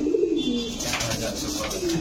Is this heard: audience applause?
no